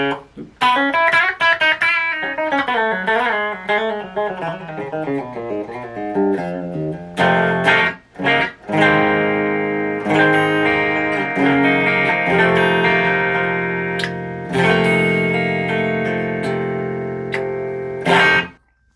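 Electric guitar plays through a Lekato wireless system with heavy distortion, first a run of bending, sliding notes, then strummed and sustained chords ringing loud and close.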